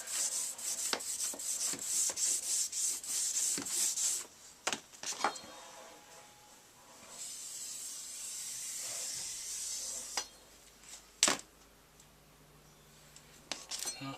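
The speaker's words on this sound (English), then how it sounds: "we're going to buff that edge just a wee bit. And add a little bit of buffing compound." A tool edge is buffed with buffing compound, giving a close, hissing, abrasive rubbing that comes in short rhythmic bursts, then a long steady whir, with a few knocks and quieter gaps toward the end.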